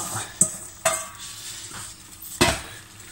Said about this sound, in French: je vais rajouter mes courgettes